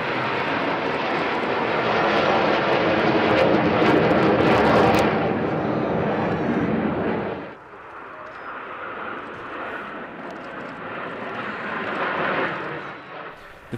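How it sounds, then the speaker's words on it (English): Nine Frecce Tricolori MB-339 training aircraft fly an aerobatic display at Zhukovsky, producing a loud, sustained jet roar that swells and then drops abruptly before building again as the formation passes. "the Italian National Aerobatic Team, Frecce Tricolori, with just 9 MB-339 training aircraft"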